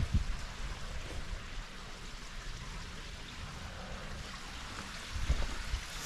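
Water flowing beneath a lakeshore trail, a faint continuous rushing and trickling with soft wind-like noise and a few low thumps, quiet and distant.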